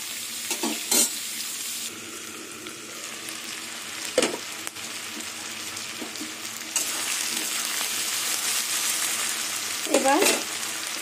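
Potatoes and onions frying in a pan, a steady sizzle running throughout with occasional sharp scrapes and clinks of stirring, growing slightly louder in the second half.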